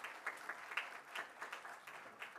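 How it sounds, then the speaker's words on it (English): Audience at a polymer science symposium applauding a speaker, quiet and distant with steady clapping that carries on for a couple of seconds. "Let's give him a big clap."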